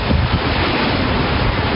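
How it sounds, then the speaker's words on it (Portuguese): Hurricane Irma's strong winds roar through a building garage while water gets everywhere, a loud, constant rushing and buffeting wind noise filling the short stretch with no voices. "O vento está muito forte, a água está ficando por todo lado."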